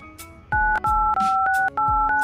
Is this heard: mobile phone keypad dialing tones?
yes